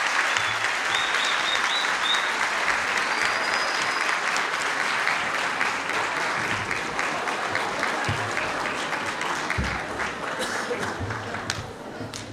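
A concert audience applauds the performing artists with loud, sustained, dense clapping that fills the hall throughout, easing slightly toward the end.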